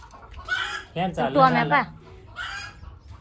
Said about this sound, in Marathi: इकडे त्याचा नाना कोंबड्यांना रडवी सुटलाय